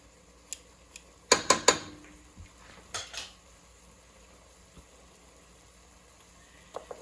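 A metal utensil stirs garlic into mushroom soup in a pot, giving a quick burst of clanks and scrapes against the pot, a few scattered taps after it, and quiet stretches in between, with no talking.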